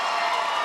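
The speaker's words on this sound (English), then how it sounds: "Rightfully so, the people are applauding." A boxing arena crowd cheers and applauds after a women's bout, a dense, loud, steady roar filling a brief moment with no clear voices above it.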